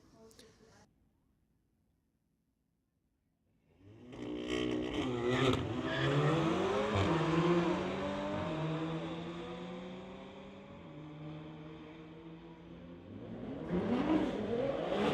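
Two 2016 Audi cars drag racing at a street-legal night meet, engines revving hard and rising through gears after a quiet start, loud and close, with tire noise and another surge of revving at the end.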